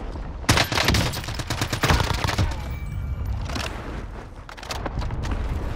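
EM2 rifle fire in the Warzone video game, dense bursts of loud rapid shots crackling one after another, with a brief lull before firing picks up again.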